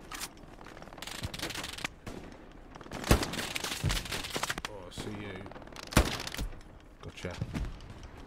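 Gunfire in the World War II shooter Hell Let Loose, with scattered sharp shots and bursts cracking across the scene, two loud reports standing out, under ongoing talk between players.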